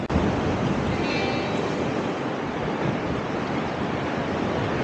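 Sea waves wash against a rocky coast along a cliff trail at Aktau, making a steady, loud, unbroken roar of surf that fills the whole stretch with no pauses.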